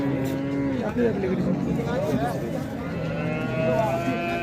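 Holstein Friesian cows at a cattle market in Sangola low in long, wavering moos that overlap one another, with murmuring crowd chatter in the background.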